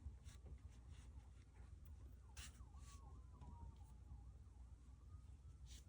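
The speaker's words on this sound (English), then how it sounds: "we're just gonna hear sirens" Emergency vehicle sirens wail faintly in the distance outside a beach home on a holiday weekend, rising and falling under a quiet background hush.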